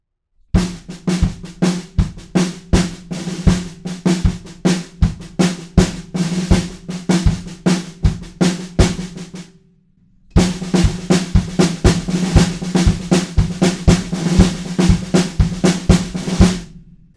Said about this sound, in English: we move that pattern sort of onto the snare drum so we get this really nice marching feel